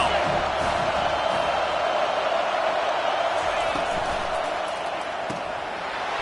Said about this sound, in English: The decibels rising as the crowd gets behind this defense on 3rd down.